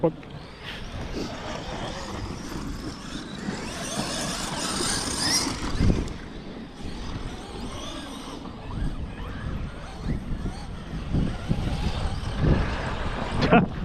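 Car wheels spinning in sand, a rough engine strain and churning tire noise that surges and drops, heard alongside talk and vehicle sounds.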